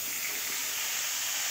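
Tomatoes dropped into a hot salted spice mix in a pan, giving a steady bright frying sizzle, close and continuous with no voices.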